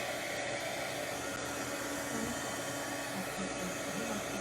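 A heat tool blows onto a foam stamp with a steady, close, airy whoosh like a hair dryer, an even hiss that holds level throughout with no talking.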